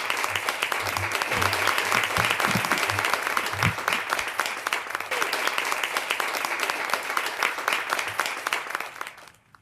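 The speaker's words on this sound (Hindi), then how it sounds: "तो एक बार जरा मुंह दिखाई की तालियां बजाइए" Audience applause at a kavi sammelan in Gujarat, a loud, sustained burst of crowd clapping with faint voices underneath, fading out at the end.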